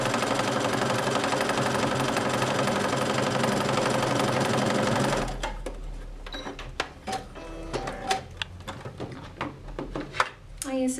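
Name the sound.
sewing machine stitching a necessaire box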